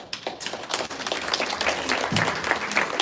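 An audience at an autistic women's panel event breaks into applause, a dense, steady wash of many hands clapping that builds slightly, with faint voices underneath.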